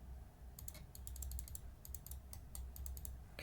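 Computer keyboard keys clatter in short bursts of quick, light taps while someone plays Blue Prince, close and fairly quiet with brief pauses between runs.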